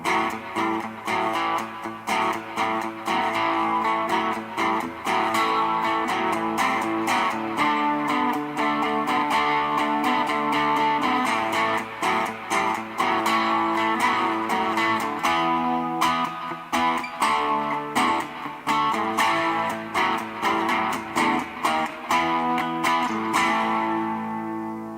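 IYV IP350 electric guitar in black, tone rolled back slightly with reduced reverb, played steadily and fairly loud with driven, gritty chords and notes for about twenty-five seconds, ringing out at the end.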